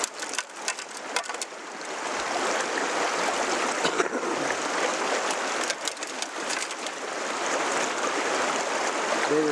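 A stream rushes steadily past a gold sluice set at a steep angle while big rocks roll down it, a continuous broad wash of flowing water with occasional knocks and clatters up close.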